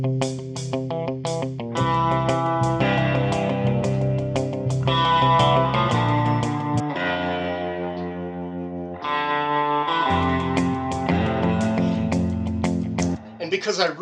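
Reamped Telecaster electric guitar played through a vintage Univox amplifier with light tremolo, a steady strummed and picked passage with sustained chords and brief gaps, loud and close with no talking.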